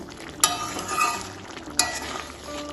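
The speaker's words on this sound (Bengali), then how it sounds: "চিনিটা ভালোভাবে মিশিয়ে নেব।" A spoon stirs sugar into a bubbling drumstick and prawn curry in a pan, with steady sizzling throughout and two sharp scraping strokes against the pan.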